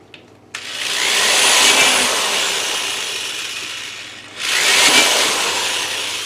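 A power drill bores holes into a metal can being made into a hanging upside-down planter, two loud sustained whirring runs up close separated by a short pause.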